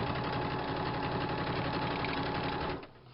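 A sewing machine stitches through book pages with a fast, steady mechanical hum that runs loud and unbroken for nearly three seconds, then stops abruptly, leaving near quiet.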